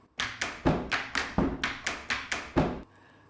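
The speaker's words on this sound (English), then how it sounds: "The next 3 sounds are played on the edge of the dhol." A rapid, steady run of about ten crisp strikes on a dhol drum's edge, close and evenly spaced, ending abruptly.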